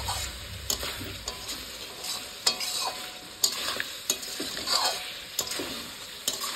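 Mutton being stir-fried in masala in a large kadai big enough for fifteen servings, with a steady sizzle broken by repeated sharp clanks and scrapes of a ladle against the metal pan, close and lively.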